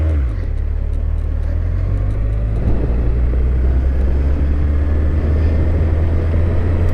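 A Honda CB1100 motorcycle pulls away on a main road, its engine rumble climbing steadily in pitch as it gathers speed, loud and close with wind noise throughout.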